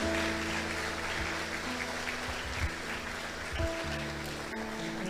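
A church congregation claps in a continuous, even wash of applause under sustained background music, steady and moderately loud throughout.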